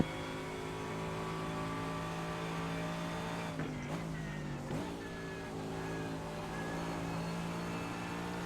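A GT3 race car engine in the iRacing sim at Road Atlanta drones steadily at high revs, with a couple of brief dips and surges mid-clip as the car slides and the throttle lifts.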